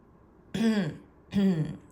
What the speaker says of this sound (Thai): ถ้าหนูไม่กระแอม เดี๋ยวเสียงไม่ออกนะพี่นะ